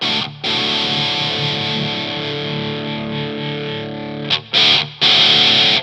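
Sonicake Cowboy fuzz pedal on electric guitar with the treble raised, giving a raspy, fizzy distorted tone: one loud sustained chord ringing for about four seconds, then a few short choppy strums.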